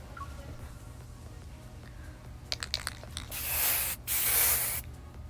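A spray paint can hisses in two close bursts, with a short break between them, after a few quiet seconds of faint handling sounds.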